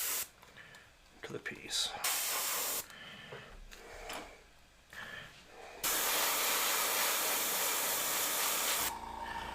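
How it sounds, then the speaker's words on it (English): An airbrush sprays paint onto a Tyranid Lictor tabletop miniature in close, airy hissing bursts of varying length, with one long steady spray near the end. A person talks between some of the bursts. "That's one thing that's nice about airbrushing."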